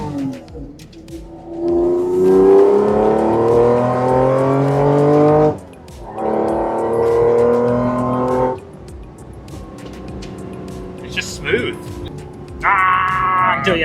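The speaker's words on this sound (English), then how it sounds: "What is interesting is how much different this supercharged car sounds compared to my turbo car." Supercharged Acura NSX engine revving with a deep exhaust note, loud and close, rising in pitch through long pulls with a brief dip between them, while a voice talks over it.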